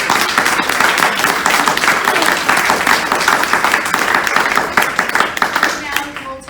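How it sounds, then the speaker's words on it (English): Audience at a San Jose political club general meeting applauds the candidates in a steady, dense roar of clapping that carries through the whole stretch, with a few voices rising within it near the end. "So let's give the candidates a round of applause."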